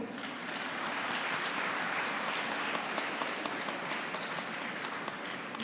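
Sustained audience applause fills a hall at a university convocation, steady and even throughout with no break, dense clapping from a large crowd at moderate distance.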